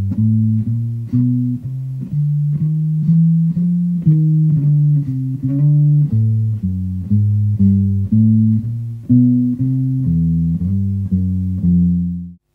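Guitar playing a walking bass line filled out with extra passing notes, a steady stream of clear plucked low notes, one after another in an even rhythm, close and alone, ending on a ringing note that fades out.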